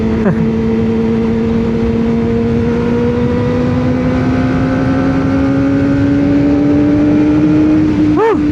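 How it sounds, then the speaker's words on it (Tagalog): A Kawasaki ZX-25R motorcycle engine revs steadily during a ride, its high-pitched whine climbing gradually and continuously, loud and close, with wind rush throughout. "Grabe naman itong motor na to."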